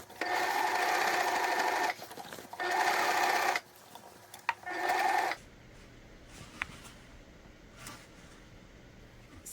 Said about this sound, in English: For this project, I used my serger to overcut the raw edges.